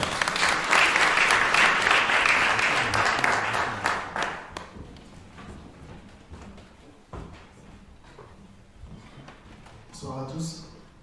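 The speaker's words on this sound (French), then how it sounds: "sous vos applaudissements, s'il vous plaît." An audience applauds at a Kinshasa book presentation event, dense clapping for about four seconds that thins into scattered claps and room murmur, with a voice briefly starting to speak near the end.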